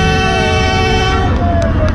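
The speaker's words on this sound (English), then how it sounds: "The flame-throwing Camaro has train horns." A loud train horn blares from a flame-throwing Camaro at a Miami car meet, one sustained multi-tone chord held close and at full volume through the whole moment.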